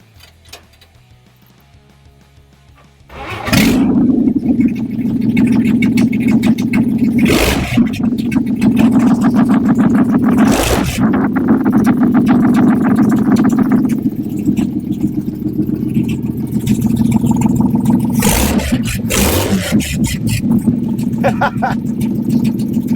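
A 1953 Chevy engine fitted with a four-barrel carburetor, new intake and headers starts up and runs loud and close, with its idle rising and falling through several revs and sharp throttle blips.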